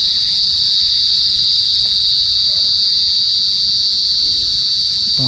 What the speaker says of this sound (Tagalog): kuliglig ba yan?